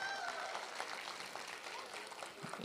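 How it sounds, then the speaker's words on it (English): Conference audience applauding, a dense wash of clapping at moderate distance, with some voices mixed in and the clapping tapering slightly toward the end. "Give her a big round of applause."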